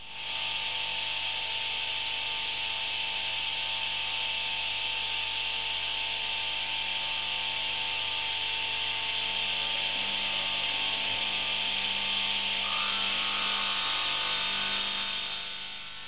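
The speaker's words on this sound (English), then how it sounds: "Switch the machine on and lower the arm until the blade just cuts into the table." A DeWalt 720 radial arm saw hums steadily as its spinning blade is lowered to just cut into the wooden table, a sustained close whine with a rougher cutting texture near the end.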